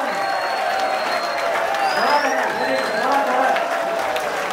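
A large audience at a business guidance talk claps loudly in a dense, continuous wash of applause. A voice calls out over the clapping.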